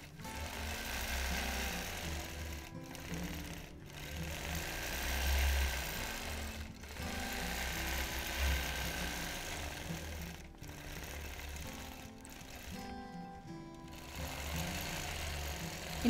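A quilting machine stitches clamshell feathers in steady running bursts, a close, loud mechanical whir that stops briefly several times for short pauses before starting again.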